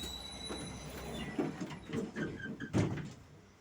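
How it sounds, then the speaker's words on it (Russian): Tram doors sliding shut at a stop on a city tram route, heard as a few soft thuds and rattles over steady low interior rumble, with a sharper clunk near the end as the doors seal. "Осторожно, двери закрываются."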